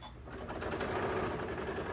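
Sewing machine stitching a scant quarter-inch seam on fabric for a small chapstick holder, a steady, fast mechanical whir running close and continuously without a break.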